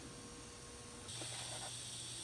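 Steady air hiss from a Rapid Air compressed-air regulator gauge in a metal shop during rust repair on a 1979 Chevy Camaro Z28 inner fender, quiet and continuous, growing a bit louder and brighter partway through.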